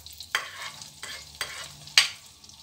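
Garlic fries in a pan for a lobster chili sauce, a soft sizzle broken by several sharp scraping strokes of a utensil stirring against the pan.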